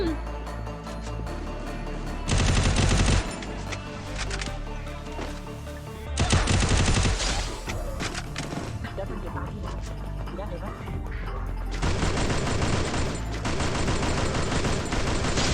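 Bursts of rapid gunfire in a video game, loud dense volleys in three main clusters with scattered shots between, mixed with game music and players talking over the action.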